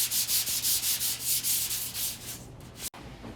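Folded sandpaper is rubbed by hand across a car bedside from a '68 build in quick, even back-and-forth strokes, a close rhythmic scratching hiss that slows and thins before a brief stop.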